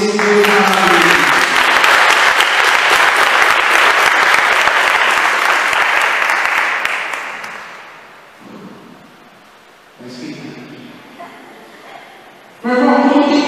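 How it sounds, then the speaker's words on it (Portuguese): A congregation at a Catholic religious gathering applauds loudly and steadily for about seven seconds, then fades out, followed by quieter rustling and a brief spoken voice. "Aplauda esse Deus maravilhoso."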